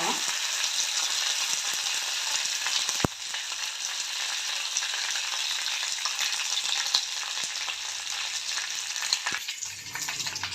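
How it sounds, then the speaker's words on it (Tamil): Oil sizzles and crackles steadily as mustard seeds, curry leaves and dried red chillies fry in a pan for rasam tempering, with a sharp clatter partway through. "கடுகு பொரிஞ்சதும் கருவேப்பிலையும் வரமிளகாயும் போட்டுக்கலாம். பொரியட்டுங்க."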